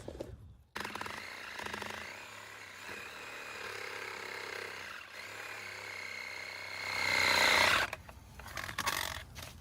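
A reciprocating saw buzzes continuously through a tree's wood for several seconds, rising to a louder, harsher pitch near the end before cutting off.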